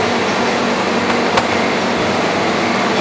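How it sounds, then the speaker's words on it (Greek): Refrigerators in a restaurant kitchen give off a steady, even hum and hiss that fills the whole clip, with one faint brief tick partway through and no voices. "ακούγονται κάτι θόρυβοι εδώ από ψυγεία κτλ"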